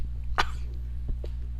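A person imitates the cough from hitting a cannabis dab: one sharp, forceful vocal cough burst, then a couple of smaller throat sounds, with a steady low hum underneath.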